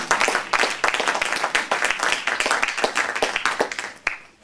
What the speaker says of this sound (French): Applaudissez Jésus-Christ